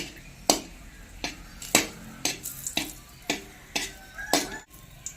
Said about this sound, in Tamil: இந்த பெருங்காயத்தை பொரித்து எடுத்துக்குவோம்